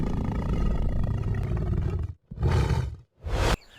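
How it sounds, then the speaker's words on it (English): A Bengal tiger in the Terai lets out massive, close roars: a long rumbling roar for about two seconds, then two shorter bursts separated by brief silences, loud and alone. "The tiger releases a massive roar that shakes his entire frame."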